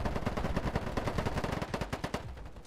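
Rapid automatic fire from a SCAR rifle in a conquest-style multiplayer shooter, a fast rhythmic stream of close, punchy shots lasting a few seconds, with no voices.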